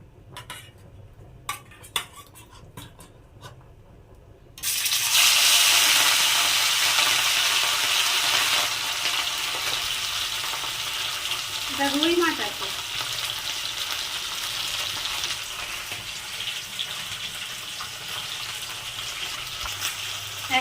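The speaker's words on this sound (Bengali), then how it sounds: "তেল গরম হয়ে গেছে বা মাছগুলো ভেজে নেবো" Rui fish rubbed with salt and turmeric drop into hot oil with a sudden loud sizzle that keeps crackling steadily, over a few clinks of a spatula against the pan.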